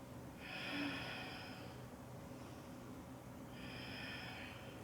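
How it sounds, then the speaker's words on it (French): Ujjayi yoga breathing during a Trikonasana triangle pose, with two long, soft, hissing breaths heard close and quiet, separated by a pause. "Et on respire Ujjayi."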